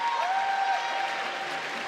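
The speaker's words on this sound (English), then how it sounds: "Cheers from the crowd." Crowd cheering and applauding at the IFSC lead climbing competition in Edinburgh, a dense, steady wash of claps and shouts from a large indoor audience throughout, with a brief whistle-like tone near the start.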